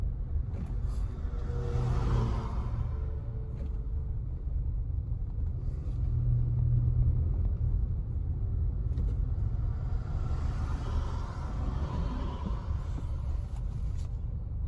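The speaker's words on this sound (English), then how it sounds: "This is what the traffic is like." Road traffic in Jamaica, with cars passing by in two clear swells of engine rumble and tyre noise over a steady low drone, each rising and fading as the vehicle moves past.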